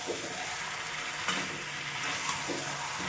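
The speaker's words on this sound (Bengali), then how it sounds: "এবার এটাকে কষিয়ে রান্না করতে হবে" Fried, spiced potatoes are sautéed in a pan with a little water, giving a soft continuous sizzle broken by a couple of brief stirring scrapes, quiet and close, with no talk.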